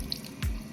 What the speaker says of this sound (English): Just gotta rinse off this dirty polish.